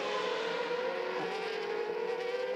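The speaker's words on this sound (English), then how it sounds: "As the engines sing coming out of turn 4 into turn 5" Formula V8 3.5 race car engines at the Barcelona circuit, a sustained high-pitched whine under acceleration that carries steadily from a distance with no talking.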